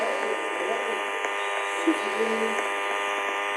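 A vacuum cleaner sound effect in the Roblox Brookhaven game, a steady electric buzzing hum running throughout while people talk over it.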